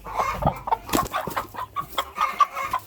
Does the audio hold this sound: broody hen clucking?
yes